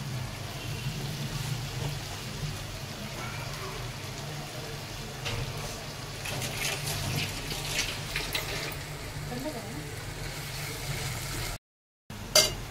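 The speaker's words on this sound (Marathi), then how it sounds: "हे जे पाणी आहे ते पण आता याच्यामध्ये थोडं थोडं ऍड करते" Water runs and splashes steadily for several seconds as it is added to a pan of dry drumstick vegetable, a continuous close pour with a faint hum underneath, then cuts off abruptly.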